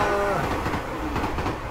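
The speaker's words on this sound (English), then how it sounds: "It's the skull train, but real and apparently in front of me." A train rolls past in the horror game Tsugunohi at an eerie railroad crossing, a steady dense rumble with faint rhythmic clacking and a high tonal whine, close and continuous throughout.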